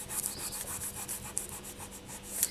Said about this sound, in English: And then I'm just going to start burnishing.